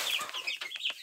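Chickens kept alongside quails cluck in quick, high, close chirping bursts, a brief busy run of calls with no talk.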